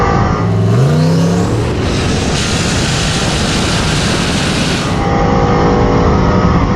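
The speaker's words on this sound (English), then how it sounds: "Oh, it's a drag race right here." Drag race cars launching down a quarter-mile strip on a Pro Tree, among them a Tesla Plaid and a turbo Foxbody: loud engine roar rising in pitch as a car accelerates, then a sustained broadband blast of passing noise before easing.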